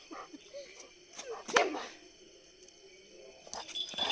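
A dog at a resort gives one sharp, fairly close bark midway, with softer whimpery sounds and faint voices around it.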